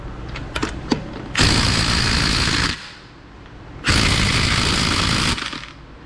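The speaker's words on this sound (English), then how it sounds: "I'm gonna hit this pretty hard with the impact gun" An impact gun hammers at a stuck nut in two loud, sustained rattling bursts of about a second and a half each, separated by a pause, with a few sharp clicks before the first burst.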